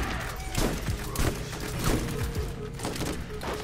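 Rapid gunfire from shooters, including a shotgun, in the video game Borderlands, a dense burst of repeated shots and thumps running throughout at moderate level.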